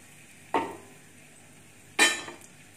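A utensil scrapes and knocks against a pan while stirring whole red chilies and cumin for dry methi aloo, two distinct metallic clinks with quiet sizzling between them.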